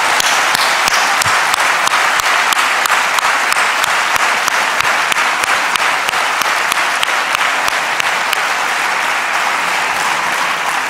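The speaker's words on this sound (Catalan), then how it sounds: "Un fort aplaudiment per totes i tots vosaltres." A packed cultural centre crowd at a political campaign opening event claps loudly and continuously, dense, even applause that barely fades across the full length.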